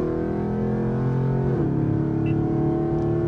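A Dodge Scat Pack drops gears and pulls hard, its engine note dipping at the downshift then climbing in a steady loud roar from inside the car.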